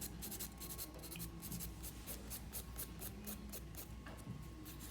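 A nail file buffs the surface of a sculpted acrylic nail to remove its shine, producing quiet, rapid, repetitive scratchy strokes in a steady rhythm, faint and close.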